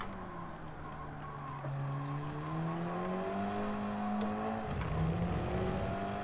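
KTM X-BOW R race car engine at Tsukuba in Gran Turismo, a loud close droning tone that climbs steadily under throttle, then drops sharply at an upshift before rising again.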